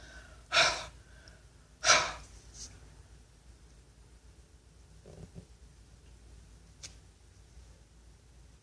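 Two strong, breathy exhalations, close to the mic, blown onto an inked rubber stamp, followed by quiet, faint handling noises at a craft table.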